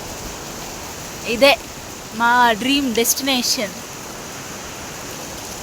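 Mountain water rushes down steadily near Yamunotri as a constant hiss close by, while a person speaks briefly over it.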